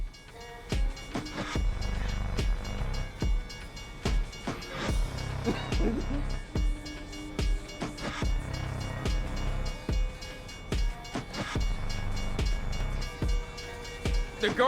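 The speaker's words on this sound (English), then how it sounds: "Oh, there's the train." Rumbling in-game train in Lies of P rolls past with repeated clattering transients and a steady low drone, loud and close, with brief bits of player speech over it.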